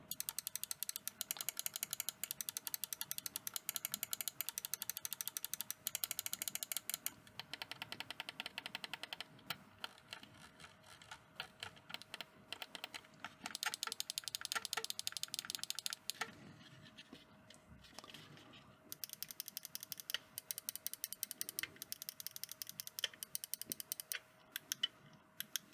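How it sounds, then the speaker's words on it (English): SteelSeries Aerox 5 wireless gaming mouse buttons clicked in rapid bursts, a dense run of crisp, close mechanical clicks with short pauses between sets, and no talking. "let's just take a listen to the clicks of these buttons here"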